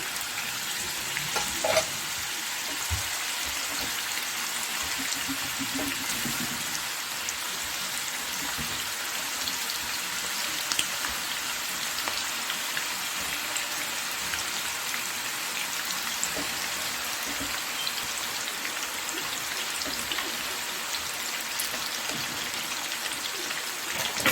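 Kofta meatballs of minced mutton fry in hot oil with a dense, even crackling sizzle that runs the whole time at moderate loudness, with occasional faint knocks and no speech.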